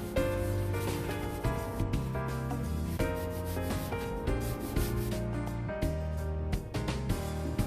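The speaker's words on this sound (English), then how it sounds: "I'm using a soft cloth from Baby Wipes to apply the baking soda paste on the surfaces of the toaster and" Soft cloth scrubbing baking soda paste over the metal surfaces of an old toaster, a close, continuous rhythmic rubbing with back-and-forth strokes, steady and fairly quiet.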